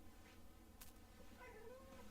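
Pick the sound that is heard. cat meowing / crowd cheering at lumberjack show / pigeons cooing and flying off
cat meowing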